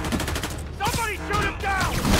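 Rapid gunfire rattles in Marvel's Spider-Man Remastered, bursts of shots crackling over game voices and shouting characters.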